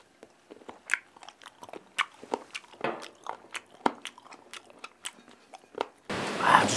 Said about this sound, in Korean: 요거를 이렇게 초장에 살짝 찍어서 한번 먹어보도록 하겠습니다